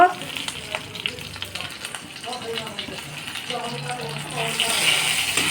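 Fish heads sizzle steadily in oil in a pan with occasional stirring clinks, the frying growing louder toward the end.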